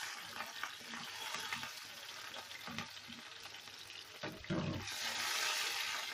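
Yellow and red bell peppers sauté in a pan with a steady crackling sizzle, and a utensil stirs through them at intervals.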